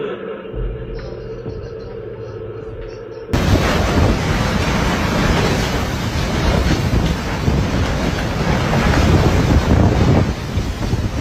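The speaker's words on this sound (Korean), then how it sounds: "순식간에 마트를 덮치는 태풍" Typhoon Krathon's strong wind strikes a supermarket in Taiwan: a quiet indoor hum suddenly gives way to a loud, continuous roar of wind buffeting close by, with rushing, gusting noise filling the rest.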